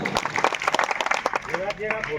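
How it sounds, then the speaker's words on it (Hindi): A village crowd at an election gathering claps loudly in brisk bursts, and a voice talks over the end of the applause. "भाई जोरदार तालियां बजाओ भाई"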